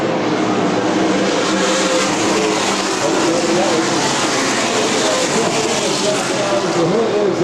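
NASCAR K&N Pro West stock cars lapping Evergreen Speedway, a constant loud engine roar and rushing track noise throughout with no break.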